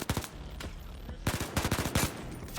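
Rapid bursts of automatic gunfire from the VR co-op shooter game Gambit, several quick clusters of loud close shots separated by short pauses.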